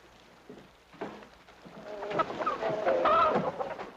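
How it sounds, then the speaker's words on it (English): A chicken clucks nearby in a quiet outdoor scene, soft scattered clucks building into a louder, busier run of squawking calls toward the end, with no talk over it. "what do you think you're doing with that chicken?"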